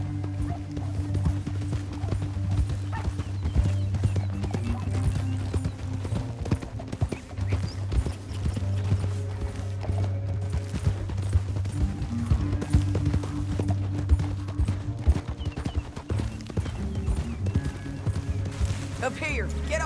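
Horses gallop in the game Red Dead Redemption 2, with a continuous drumming of hooves and a low rumble running throughout, while people talk over it.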